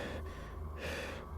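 Someone gasps for breath in quick, ragged inhalations and exhalations, close and fairly soft, with no talking over it.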